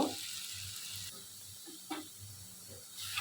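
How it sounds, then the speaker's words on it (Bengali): Spice paste with whole garlic cloves frying in a pan, a soft hiss and sizzle that flares at a few moments, close but fairly quiet, with no voices. "মশলাটাকে ভালোভাবে কষিয়ে নিচ্ছি আমি কিছু আস্ত রসুন দিয়ে দিলাম"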